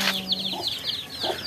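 A hen's young chicks peep in quick, high repeated bursts close by, with a few soft lower clucks mixed in, heard clearly over faint outdoor background noise.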